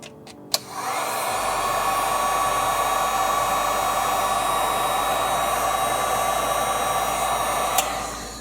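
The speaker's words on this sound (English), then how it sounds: "And then a quick little touch with the heat gun." After a couple of sharp clicks, a heat gun switches on and blows a loud, steady hiss and whir as it shrinks heat-shrink tubing over cables for a model kit, running continuously until a click near the end.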